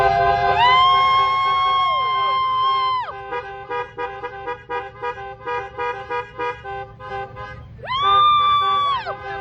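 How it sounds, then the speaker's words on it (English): Car horns honk loudly in long overlapping blasts, then a stretch of rapid rhythmic toots, then more sustained honking, outdoors amid a crowd celebrating a woman's arrest. "a crowd of cheering people, honking their horns and celebrating this woman's departure to jail"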